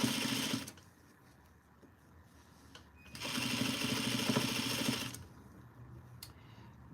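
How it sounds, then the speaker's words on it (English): A sewing machine understitches a duster garment sewn from a Simplicity 8059 pattern, with two loud steady bursts of rapid stitching separated by quieter pauses, very close. "let's understitch this bad boy"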